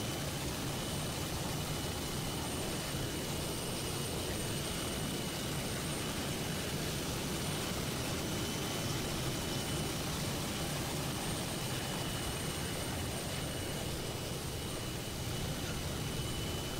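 Steady, loud jet engine roar of a Lockheed T-33 Shooting Star in Microsoft Flight Simulator 2020, a continuous broadband rumble and hiss with faint high whine holding level throughout, with no talk over it.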